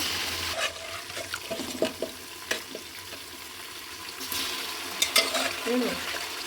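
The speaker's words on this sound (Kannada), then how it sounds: "ಈಗ ಇದಕ್ಕೆ ಬೇಯಿಸಿಟ್ಟಿರೋ ಮಟನ್ನ ಸೇರಿಸೋಣ" Cooked mutton goes into a pan of roasted onion, tomato, mint and biryani masala for a Sunday mutton biryani, with wet sizzling and stirring, scattered knocks and scrapes, and a louder splash of sizzle near the end.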